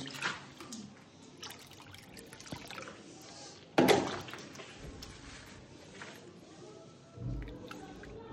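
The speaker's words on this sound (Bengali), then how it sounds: "আর একটু জল দিই।" Water is poured into a container in brief, soft liquid splashes and trickles, with a louder gush near the middle, amid quiet room sounds.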